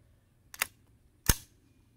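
A pre-ban Colt AR-15 Sporter II carbine fitted with a .22LR subcaliber bolt fires subsonic .22LR rounds. There are two short, sharp, quiet pops about three-quarters of a second apart, each followed by silence.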